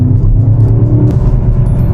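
A BMW M5 Touring engine roars steadily under full-throttle acceleration in second gear, a loud continuous low rumble with rising revs, up close and without speech.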